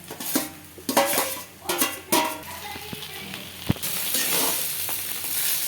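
Fried vegetables stirred into chowmein in a pan, with loud sizzling, scraping and clattering strokes in an irregular rhythm, close up, no talking.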